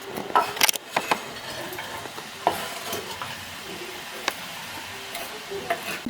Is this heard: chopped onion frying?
yes